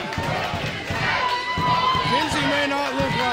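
A wrestling crowd at a New South Pro Wrestling show in Florence, Alabama, cheering and shouting steadily, with thuds and bangs from the ring and talk over the noise.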